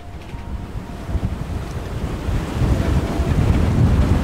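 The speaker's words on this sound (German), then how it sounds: "Wir hatten fast 50 Knoten Wind, würde ich sagen." Storm-force wind of nearly 50 knots roars over a rough, churning North Atlantic sea near the Azores aboard a sailboat, a loud, constant rumble of wind noise and surf that swells stronger toward the end.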